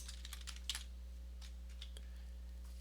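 Keys click on a computer keyboard while code is typed, a short run of light quick taps close by over a low steady electrical hum, with no talk.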